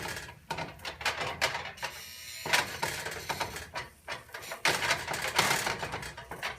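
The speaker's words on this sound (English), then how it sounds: "I cannot hold the handle of this wok. That's why you hear all that noise." An unheld wok rattles and clatters irregularly against the stove as pansit bihon is stirred, with bursts of metallic knocking and scraping, fairly close and loud.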